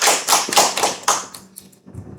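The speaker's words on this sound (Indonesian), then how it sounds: "Beri tepuk tangannya untuk Mbak Katri" Students in a microteaching classroom clap for a classmate in a short burst of sharp claps close by, tapering off into a few scattered claps.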